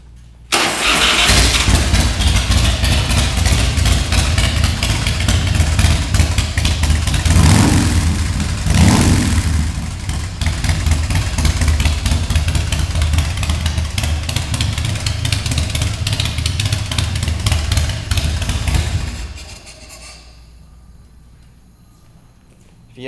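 A 2006 American Ironhorse Tejas motorcycle with a 117-inch S&S engine fires up and settles into a loud, steady, close idle with a deep rumble and a brief rev near the middle, then cuts off near the end.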